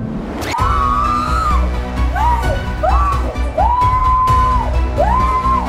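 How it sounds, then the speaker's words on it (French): People scream and wail during a church deliverance session, several rising and falling cries in a reverberant room, loud and close, with crowd noise underneath. "Ces cris que vous entendez sont la manifestation des démons"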